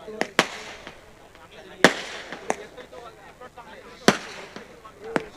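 Fireworks go off at an honouring ceremony before a final sports match. Several sharp, irregular cracks and pops ring out at moderate distance over a murmur of crowd voices.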